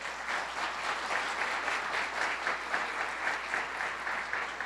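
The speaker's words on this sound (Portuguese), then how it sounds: "Aplauda ao Senhor." A church congregation applauds steadily and evenly throughout, a dense wash of claps at moderate loudness with no voices heard above it.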